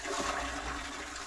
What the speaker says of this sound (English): You flush it, my man, with a jug of water, which is outside the door.